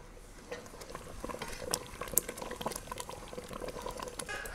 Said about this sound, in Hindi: अब इसमें बबल्स बनने लगी हैं।